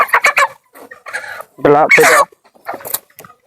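A chicken clucks and squawks loudly at close range, with several short bursts and one longer harsh call, over a bit of background chatter.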